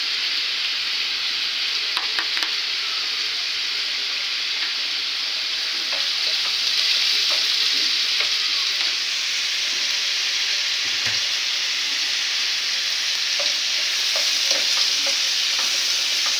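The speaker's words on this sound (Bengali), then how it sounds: "যে মশলাটাকে ভালো করে লাল করে ভেজে নেবো, লাল হওয়া পর্যন্ত অপেক্ষা করতে হবে।" Spice paste with ginger frying in hot oil in a home kitchen, cooked until it turns red; a steady, close, bright sizzle runs throughout, with occasional light clicks of stirring.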